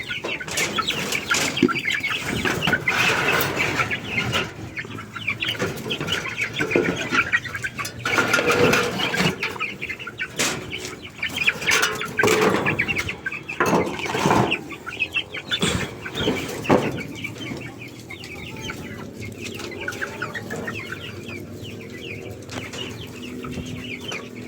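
Chickens cluck and bustle at feeding time on a mix of Madre de Agua and commercial seeds, with scattered clucks, wing flaps and pecking clatter close by over a low background.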